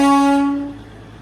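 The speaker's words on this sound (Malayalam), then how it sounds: "ഇതാ ട്രെയിൻ കടന്നു വരികയാണ്." A Darjeeling Himalayan Railway train sounds a single loud, tonal horn blast as it arrives at Batasia Loop. The note holds briefly and then fades out quickly.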